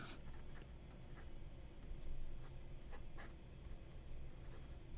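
A fountain pen with a Yowo 1.5 steel nib scratches across paper, a soft, close, continuous scratching with brief strokes and lifts, and no talking.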